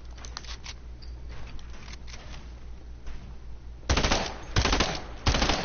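Gunfire in a battle royale video game: bursts of rapid automatic shots ring out loudly in the second half, following a quieter stretch of softer, scattered game sounds.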